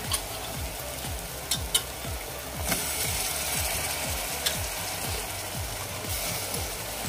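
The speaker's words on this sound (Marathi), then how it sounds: "आता यामध्ये मी भिजवलेला तांदूळ घालून घेते" Soaked rice is stirred into a pan of sautéed masala for bombil (Bombay duck) rice. Rhythmic scraping strokes repeat over a steady close sizzle, with no voices.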